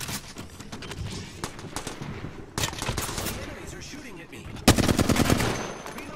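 Gunfire in a fast-paced shooter video game rattles in rapid automatic bursts, growing louder and denser toward the end, with voices speaking faintly underneath.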